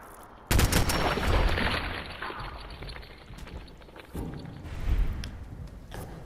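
Gunfire in the video game Fallout 4: a loud burst of rapid shots that fades and returns, with a second sharp volley near the end.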